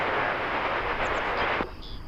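An American Airlines Boeing 737-800 arriving at DFW Airport, heard as a loud, close jet roar that drops off sharply near the end, leaving a fainter high whine.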